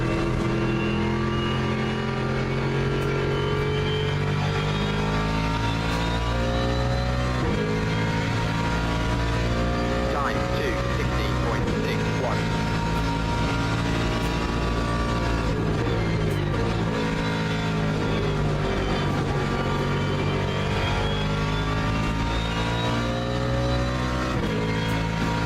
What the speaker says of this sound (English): The Lexus in ACC might be the best sounding GT3 car I've ever heard in a video game